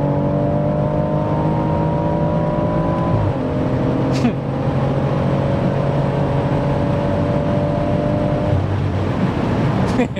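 A tuned 730 bhp BMW M140i accelerates hard on a derestricted road in fifth gear, its engine drone climbing steadily in pitch, briefly dropping at a gear change, then climbing again, loud and close from inside the car against rushing wind noise.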